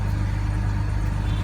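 A BMW 525i engine runs steadily at a smooth, calm idle, with a low, even hum heard up close and no voices.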